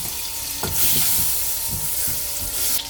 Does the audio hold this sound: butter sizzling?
yes